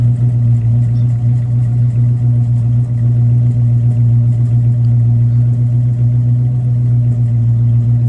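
A 1979 Chevy Camaro engine idles steadily at a car show, a loud, even low rumble holding without change, with no voices.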